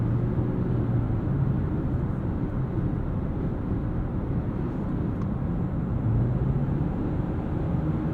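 A 2020 Toyota Prius XLE AWD-e with its eCVT hybrid powertrain at full throttle gives a steady, smooth engine and road drone, heard from inside the cabin with a faint rising tone and no voices.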